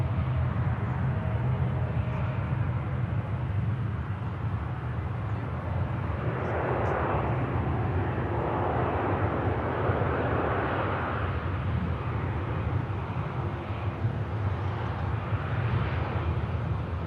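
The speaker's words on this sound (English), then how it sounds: "this EasyJet inbound from Zurich" An EasyJet Neo airliner inbound from Zurich at Manchester Airport gives a steady, distant jet-engine roar that swells slightly mid-way and holds as a continuous rumble throughout.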